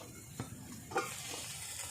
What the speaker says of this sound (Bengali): আর এটা এটা বড়ি ভাজা মা।